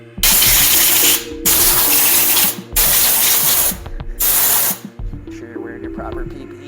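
Compressed air blasts dirt off a KLX140 dirt bike during a big bore kit build, in three loud hissing bursts with short pauses between them. A quieter mechanical clatter follows at the end.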